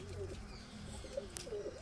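Pigeons in a high-flying pigeon breeding loft give soft, low cooing calls, faint and close, with a light flutter or click partway through.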